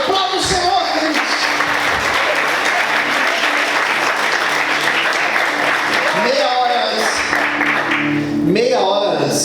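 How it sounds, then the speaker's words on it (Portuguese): A church congregation applauds in a sustained, loud wave of clapping, with cheering voices and a preacher speaking over it near the start and end. "Aplauda o Senhor, queridos."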